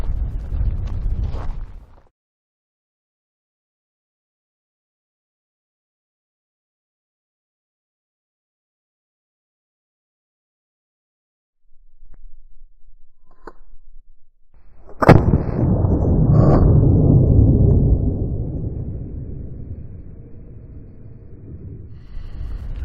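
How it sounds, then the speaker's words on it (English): A Smith & Wesson M&P Bodyguard .38 Special double-action-only revolver gives one sharp, loud report, followed by a long stretch of rumbling, broadband noise. A brief burst of noise comes earlier, then a quiet gap. "let's just put 5 rounds in here and start shooting and see what happens"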